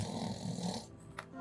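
A voice imitating loud snoring, one brief rough rasping snore close to the microphone, quiet overall and fading into a short snort.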